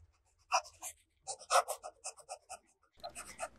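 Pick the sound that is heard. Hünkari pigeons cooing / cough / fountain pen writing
fountain pen writing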